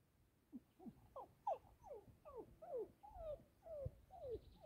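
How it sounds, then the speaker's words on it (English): A dog gives a series of short whimpering yips and whines in quick succession, fairly near and moderately loud, with no talk over it. "What are you barking at?"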